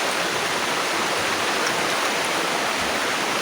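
A dense, even hiss of heavy rain fills the whole stretch without a break, steady and close, with no voices.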